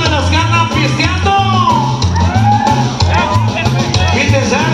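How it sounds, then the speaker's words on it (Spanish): Men give rolling festive yells and whoops at a San Judas Tadeo celebration in Tula, Tamaulipas, over a pounding band beat and continuous crowd din. "¡Y el grito machín de los hombres!"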